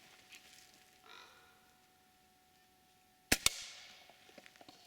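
An original Daisy BB gun fires once, a sharp close crack with a quick second snap right after it, in an otherwise quiet outdoor setting with faint background sounds.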